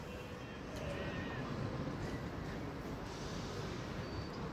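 A diesel multiple unit train, a pair of Class 156 units, rumbling past at a distance, a steady broad engine drone with faint higher tones above it.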